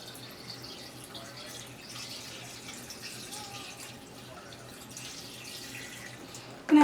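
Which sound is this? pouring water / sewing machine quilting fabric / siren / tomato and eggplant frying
pouring water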